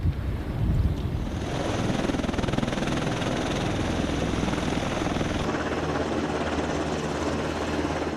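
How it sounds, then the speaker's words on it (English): Presidential convoy helicopters lift off together, a loud, steady rotor roar and whine that swells in after a brief quieter start and holds constant, with wind buffeting the microphone. "After takeoff, these helicopters begin to shift their formation to obscure the president's location."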